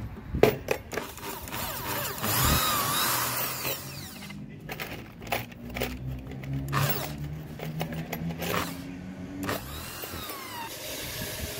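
A power drill bores holes in wood while a small three-step wooden staircase is being built, whirring in several bursts of varying pitch with pauses and handling clatter between them, fairly close.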